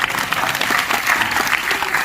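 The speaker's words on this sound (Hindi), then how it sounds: "ये पहली लाइन, ताली बजनी चाहिए।" Lively audience applause at a comedy mushaira in Aurangabad, a dense and loud burst of many people clapping that holds steady throughout, with no talking over it.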